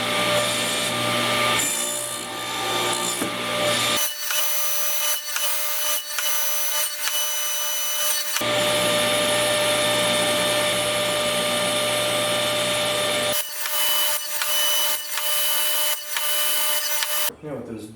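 A saw cuts half-inch dados in old-growth wood, a loud whining power tool running in long bursts with abrupt stops and gaps between passes, close and dominant.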